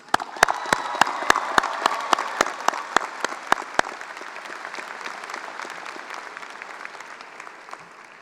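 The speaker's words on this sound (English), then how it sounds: "Round of applause for our parents." Parents receive a loud round of applause at the 2019 Hanks High School graduation ceremony, opening with a string of sharp, evenly spaced claps before a dense crowd of clapping hands that slowly thins and fades.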